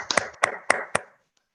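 A few sharp, close claps in a short irregular burst of about five hits, fading to quiet, as an audience welcomes guests at a business meeting.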